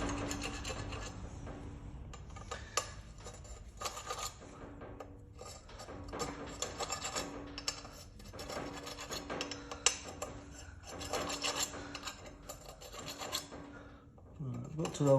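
Brake disc holes on a motorcycle are cleaned out by hand with a small tool, making a series of short scraping, rasping strokes in irregular bursts, close by and fairly quiet, with brief pauses between them.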